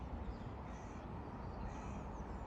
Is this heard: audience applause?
no